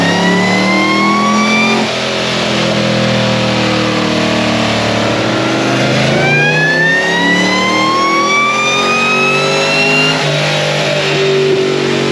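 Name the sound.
LSA supercharged drift car engine revving on E85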